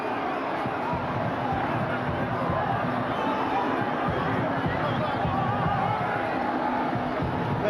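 Dense, steady roar of a huge stadium crowd at Eden Park during a Super Rugby Pacific final between the Chiefs and the Blues, with cheers and whoops rising out of a constant wall of babble.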